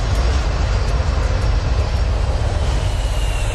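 Airliner engines throttled back to idle during the landing flare, a steady broadband rumble and roar, loud and continuous with no voices.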